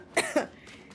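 Two quick, dry coughs from someone with a lingering cold, close and fairly soft, the second following the first a moment later.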